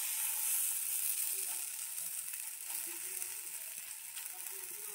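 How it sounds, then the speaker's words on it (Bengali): Pakoras sizzling as they fry in a small amount of shallow oil, a steady bright crackling hiss that stays close and even throughout, with faint clinks of handling beneath and no voices. "এবারে অল্প অল্প করে পকোড়াগুলো দিতে থাকি।"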